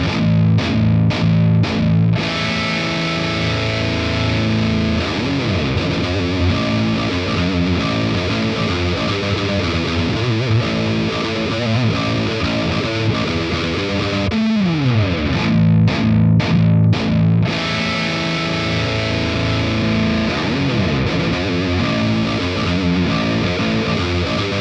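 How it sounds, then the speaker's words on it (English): An extended range baritone guitar plays heavy, distorted djent riffs through amp modelers, with palm-muted chugs, sustained chords and a brief pitch slide in the middle, loud and dense throughout with no talking. "Now let's listen to the extended range baritone Djent version of this comparison."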